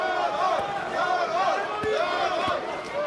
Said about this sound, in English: other fans are cheering on the champion